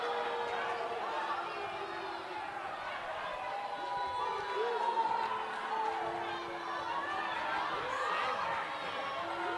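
The home crowd at a girls' high school basketball game roars in protest after a referee's traveling call, a sustained, agitated din of many voices filling the gym throughout.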